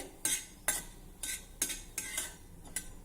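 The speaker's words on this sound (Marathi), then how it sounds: "ही चना डाळ देखील मस्त भाजून घ्यायची आहे" Chana dal being dry-roasted and stirred in a pan for a Varhadi sesame banga: a series of sharp scraping clinks of a metal spoon against the pan, about seven strokes in a steady rhythm, close and clear, with no talking.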